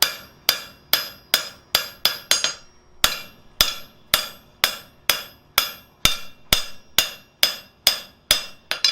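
Steady hammer blows flattening the steel of a blacksmith's bending fork, about twenty sharp ringing metallic strikes in an even rhythm with a brief pause near the start, close and loud with no talking.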